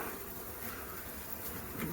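Dense honeybee buzzing from a hive cutout, a continuous close swarm hum filling two seconds without pause, no talk.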